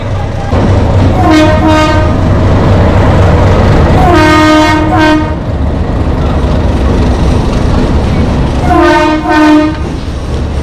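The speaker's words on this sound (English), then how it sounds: "The train." A train passes through Hanoi, Vietnam, its loud rolling rumble continuing throughout as the horn sounds three times, each blast lasting about a second, close by.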